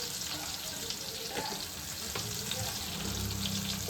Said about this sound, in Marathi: तेलामध्ये 4-5 पाकळ्या लसूण, त्यात कढीपत्ता, त्याची फोडणी देऊन